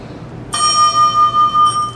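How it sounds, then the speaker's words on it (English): A timekeeper's bell at a speech event strikes once, sharp and loud, then holds a bright ringing tone that pulses gently as it decays over more than a second, with no talking. "When a student is required to start speaking, it will ring once."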